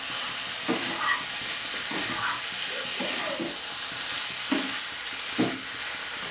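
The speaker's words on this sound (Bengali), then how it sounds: "তো আমি দেখো ভালোভাবে নাড়িয়ে দিয়েছি।" Raw jackfruit and shrimp fry in a pan with a steady broadband sizzle, while a utensil scrapes and stirs in several distinct knocks and swishes, close and fairly loud.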